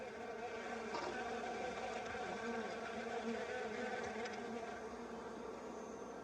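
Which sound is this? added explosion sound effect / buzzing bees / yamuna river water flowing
buzzing bees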